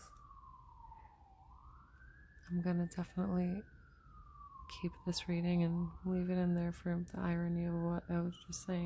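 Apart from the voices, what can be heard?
ambulance sirens passing outside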